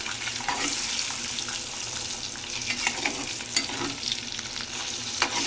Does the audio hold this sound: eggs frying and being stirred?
yes